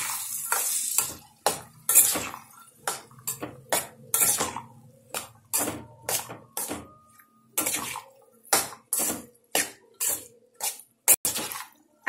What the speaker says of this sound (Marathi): आता आपण या शेंगा यामध्ये टाकून घ्यायचं आणि याला मिक्स करून घ्यायचं।